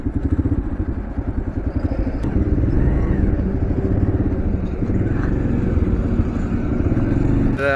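A motorcycle pulls away on a road trip, its engine loud and close with a steady throbbing pulse that swells as it gets under way, accompanied by a clattering rumble.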